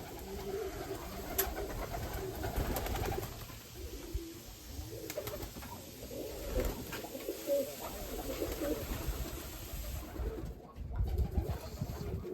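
Low, murmuring coos from a flock of Budapest pigeons in a flying loft, continuous and overlapping, with occasional rustles and bumps nearby.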